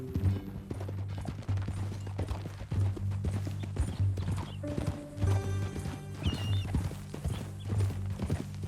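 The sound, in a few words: horse hooves clip-clopping, from a video game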